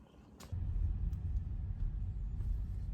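A car drives through town on a snowy road, with a steady low engine and tyre rumble close by and faint higher clicks and hiss over it.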